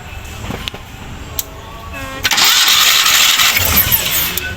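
Conventional car engine cranking on the starter, a rhythmic whirring churn that catches into a loud rushing roar, with voices speaking nearby.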